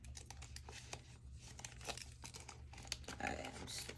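Cash and paper envelopes crinkle and rustle up close as bills are stuffed inside, with steady handling noise over a low constant hum.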